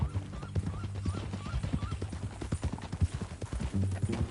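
Hooves of a horse in Red Dead Redemption 2 clip-clop in a steady, close walking rhythm, with faint neighing and light background ambience.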